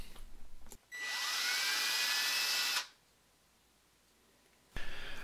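A power drill bores an eye socket hole into a handmade multi-jointed shad swimbait, a steady loud whine lasting about two seconds after a brief start, then stopping into near silence.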